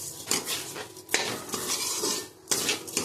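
A spoon scrapes and clinks against a pot as a sugar and salt mixture is stirred continuously, with irregular metallic scraping strokes and a soft sizzle beneath, close and moderately loud.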